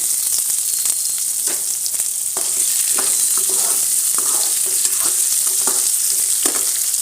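A spoonful of cumin and two handfuls of small shallots fry in hot oil, making a loud, continuous sizzle broken by repeated utensil scrapes and taps as they are stirred.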